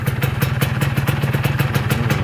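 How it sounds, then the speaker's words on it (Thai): A Honda Dash 125 motorcycle idles on its stock exhaust, a loud, close, rapid chugging putter with an even beat throughout. "เสียงท่อเดิม"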